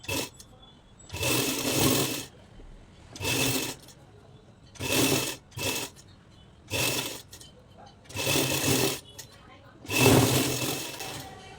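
A sewing machine stitches lining onto the front parts of a blouse in repeated loud bursts of whirring, each lasting about a second, separated by short quiet pauses.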